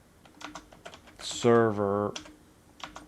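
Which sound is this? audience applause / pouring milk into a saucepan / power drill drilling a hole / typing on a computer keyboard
typing on a computer keyboard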